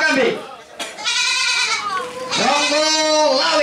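A goat at a goat breeding show gives loud, drawn-out bleats, one after another, close by and filling most of the moment.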